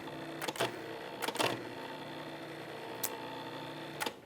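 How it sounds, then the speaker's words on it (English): A food processor spins dry pie crust ingredients with a steady, close motor whir, broken by a few short clattering bursts as the contents are tossed. "I'm going to give this a quick spin and get these dry ingredients combined."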